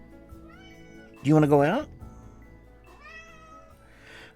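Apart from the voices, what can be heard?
cat meowing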